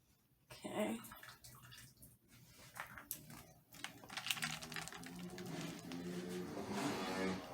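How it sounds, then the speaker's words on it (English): Sweet potatoes dropped into a bowl of ice water in a home kitchen while making sweet potato pie, with a few splashes and clinks of ice followed by a steady sloshing of water, close and moderately loud. "I'm about to put the sweet potatoes in the ice water."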